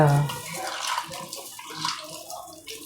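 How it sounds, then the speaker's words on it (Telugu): Bitter gourd pieces are washed by hand in a bowl of water with a little coarse salt, giving close, soft sloshing and splashing with a brief voice at the start. "వాటర్ వేసి కాస్త మంచిగా కడిగేసేయాలి"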